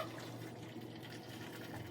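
Water poured or running into a pan to make steam for a cake, a soft steady trickle in a kitchen, faint and continuous, with no talk.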